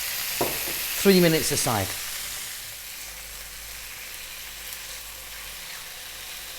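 Chicken pieces for lemon garlic chicken fry in a pan over high heat, giving a steady low sizzle throughout. A voice speaks briefly near the start.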